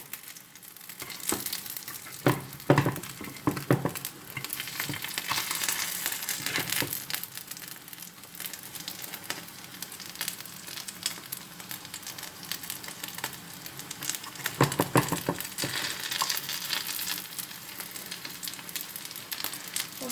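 Pancakes fry in a pan with a soft, steady sizzle, punctuated by occasional crackling bursts and utensil scrapes, close and moderately quiet.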